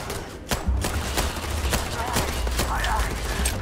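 Gunfire in the Starfield video game, a rapid series of sharp close shots with irregular spacing over a low rumbling background.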